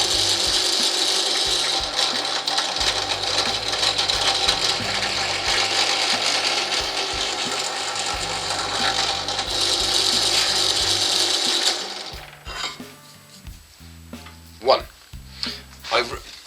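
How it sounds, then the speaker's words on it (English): A small power drill whirs steadily for about twelve seconds, drilling a hole in wood for an earring holder, then stops, leaving scattered clicks and knocks. "I'm going to line it up and drill out each of the 24 holes."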